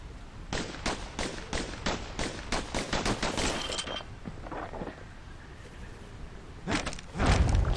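Slinger pistol fire in the video game Bastion: rapid bursts of sharp, evenly spaced shots, a quick volley of about a dozen, a pause with softer impacts, then another short burst.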